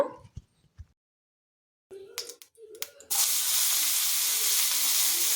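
Dried prawns drop into a pan of curry and set off a loud, steady sizzle of frying that carries on to the end, after a few sparse clinks and a short silence.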